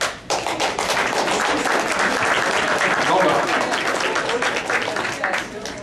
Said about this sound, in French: j'aimerais ça aussi qu'on les applaudisse